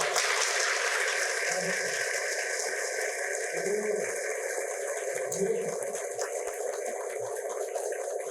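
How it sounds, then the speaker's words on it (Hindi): Audience applause for students at a vocational education and skill development event in Uttar Pradesh, a steady broadband patter of clapping running throughout, with a few low murmuring voices underneath. "स्टूडेंट्स को मुझे लगता है कि तालियां जोरदार बजनी चाहिए।"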